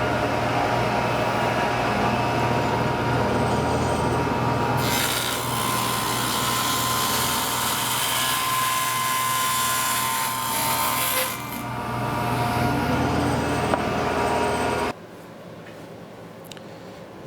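Steady rasping saw strokes cut through the last joint of a dovetailed wooden box held in clamps against shims, continuous and fairly close for most of the stretch before dropping to near quiet at the end.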